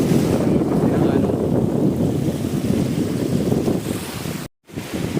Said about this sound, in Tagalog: sobrang lakas ng hangin at sobrang lakas ng alon